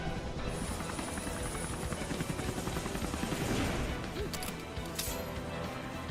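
In an animated battle between Lara Croft and Nathan Drake, a helicopter rotor roars loud and continuous, with crashing impacts and clatter layered over it.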